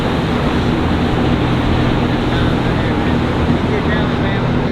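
Motorboat passing on a broad river while out fishing, a steady loud broadband engine and hull wash rumble that holds constant throughout, with no distinct approach or fade, mixed with wind and water noise.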